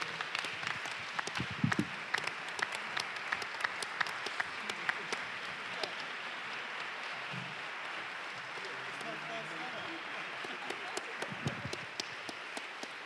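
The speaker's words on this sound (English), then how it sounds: "Please clap again and help me thank these wonderful" A conference audience applauds its speakers with sustained, fairly even clapping from a large room, with voices underneath at times.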